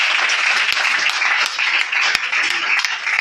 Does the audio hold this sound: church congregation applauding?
yes